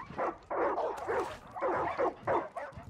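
Dogs in the video game Far Cry 5 barking and whimpering in quick bursts, a string of yelps and whines repeating over about three seconds at moderate loudness.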